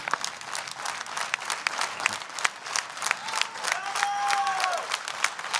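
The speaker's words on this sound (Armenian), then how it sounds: "Այո, շարունակում ենք ծափարել Գրիգորին։" An audience at a folk singing gala applauds a singer with steady, crisp clapping at moderate distance, swelling slightly toward the end, with a faint whistle-like tone briefly rising over it.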